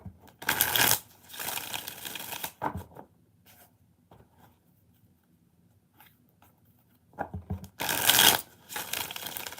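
Tarot cards are shuffled in several quick, crisp riffling bursts, separated by quiet pauses, with a louder final flurry near the end.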